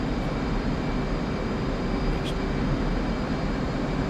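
An F/A-18C jet engine in the flight simulator DCS roars as the throttle is pushed up, giving a steady, loud, broadband rush that holds constant throughout.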